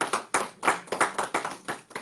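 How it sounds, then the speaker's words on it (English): A small studio audience at a dating game show claps in a quick, uneven rhythm, each burst of hand claps distinct and close, with no talking over it. "round of applause where you are for these people"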